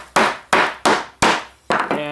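Wooden rings for a lighthouse base tapped down in a woodturning shop, five sharp close knocks about every third of a second, each decaying quickly, with no talk.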